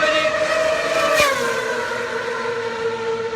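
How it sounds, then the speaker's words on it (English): Formula 1 race cars at a Ferrari event, loud and seriously quick, with a sustained high engine whine whose pitch slides downward as a car passes nearby, continuing alone without talk. "But these Formula 1 cars are seriously quick and seriously loud."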